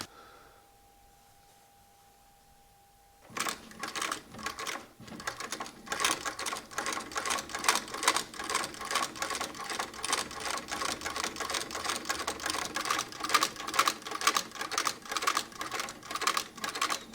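A sewing machine stitches the olive-colored leather upper of a full-brogue shoe, running in a steady rapid burst of needle strikes after a few seconds of near silence.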